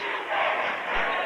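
Crowd at a high school basketball game cheering as the home side defends, a dense, loud roar swelling briefly.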